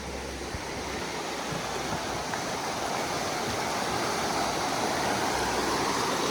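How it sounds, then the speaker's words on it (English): Fox Creek on the Appalachian Trail rushes steadily over rocks, a constant broad splashing roar that stays even throughout with no talking. "this is Fox Creek"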